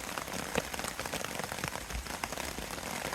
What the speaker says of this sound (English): it's getting a little brighter out there as this rain's coming down